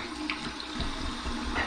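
Cold water runs from a bathroom tap for a post-shave rinse, a quiet, steady splashing stream with small irregular spatters.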